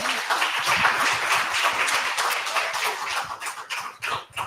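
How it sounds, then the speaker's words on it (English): A studio audience claps for the podcast cast in a steady, dense round of applause, fairly close, that thins into a few scattered claps toward the end. "Big round of applause for the cast."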